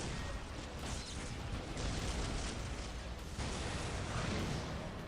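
Las cannon fire and explosions in the Dawn of War 4 strategy game, a dense, continuous wall of booming blasts and crackling bursts with heavy low rumble, loud and sustained throughout.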